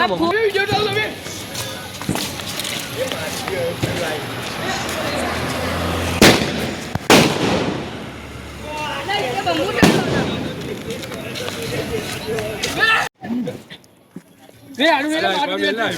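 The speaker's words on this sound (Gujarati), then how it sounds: "બધા બોમ્બ ફોડે છે" Sharp firecracker bangs pop out of a noisy Diwali street scene, a few loud cracks rising above constant chatter and crowd noise, with a brief lull near the end.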